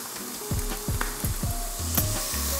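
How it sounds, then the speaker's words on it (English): Breakfast food sizzles steadily in a pan on a camp stove outdoors, a continuous close frying hiss with light scraping and clicking from stirring, no talking. "Nice, they're sizzling."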